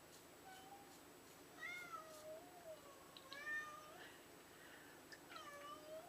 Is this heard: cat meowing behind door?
yes